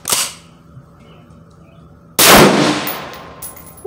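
A single loud gunshot from an AT Omni Hybrid polymer AR pistol in 5.56 with a muzzle brake, a sharp blast followed by a long ringing decay, with a fainter sharp crack at the start of the clip.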